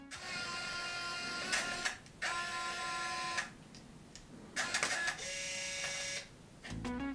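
Bursts of mechanical whirring and high electronic whine from the film-advance and zoom motor of a Canon point-and-shoot film camera, stopping and starting several times with short pauses between.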